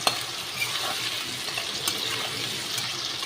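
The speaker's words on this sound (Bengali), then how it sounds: "আলুটা ভাজা হোক।" Sliced potatoes frying in a pan with turmeric during home cooking of a katla kalia, a steady close sizzle running through the whole moment with a few light stirring clicks and no voices.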